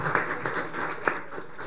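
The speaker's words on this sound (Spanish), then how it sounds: "Primero le damos el aplauso a don Iván" Audience applause at a secondary education symposium, a steady patter of many hands clapping in a hall, with a few louder individual claps standing out.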